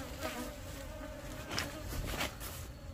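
Honeybees swarm and buzz around a hive during early flowering season, a dense steady hum close by with a few louder passes of individual bees flying near.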